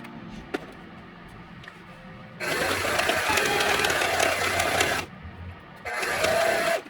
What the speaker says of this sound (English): Oh, I guess I gotta sew the pants together first